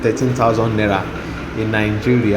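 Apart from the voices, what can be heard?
None of the usual background noises is heard.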